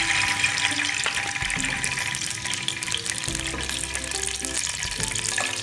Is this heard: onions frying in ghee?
yes